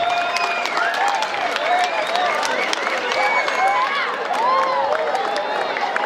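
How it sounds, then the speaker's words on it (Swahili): Mourners at a burial gathering break into steady applause, a dense patter of many hands clapping close by, with voices calling and murmuring through it and a faint melodic tone running underneath. "Haya tuwapigie makofi."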